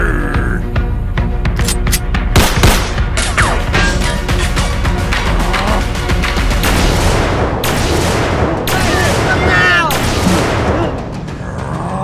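Loud gunfire and explosive booms erupt in a chaotic action battle right after a shouted order, mixed with dense noise, music-like swells and shouting voices throughout.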